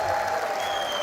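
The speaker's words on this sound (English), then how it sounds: "The crowd got here early. They've been very loud." An esports arena crowd at a Rocket League major in Copenhagen roars and claps in a dense, continuous wash of cheering and applause, loud and sustained for about a second.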